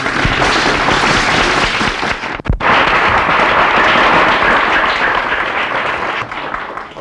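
A large seated audience at a spiritual discourse breaks into loud, dense clapping that fills the whole span, with a brief dip midway before the applause continues strongly to the end.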